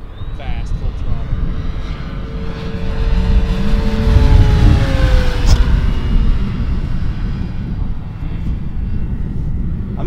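An E-flite RC model airplane flies at full throttle on a breezy day, its high-pitched motor whine swelling and shifting pitch as it passes, with wind buffeting and people talking nearby.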